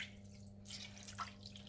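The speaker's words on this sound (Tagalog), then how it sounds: "So, lagyan na natin ng water." Water poured into a cooking pot for pork sinigang, a quiet splashing and trickling stream with a few brighter drips, faint and steady with a low hum underneath.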